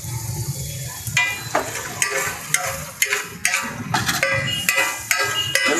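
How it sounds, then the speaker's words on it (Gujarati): Paneer shallow-fries in a pan for Italian-style pav bhaji, with a bright sizzle under repeated metallic scrapes and clinks from stirring, close and fairly loud. "એને પણ આપણે થોડીક વાર સેલો ફ્રાય કરશું."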